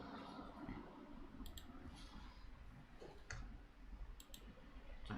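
Mouse clicking on an on-screen icon, a few faint, crisp clicks, some in quick pairs, over a low background hum.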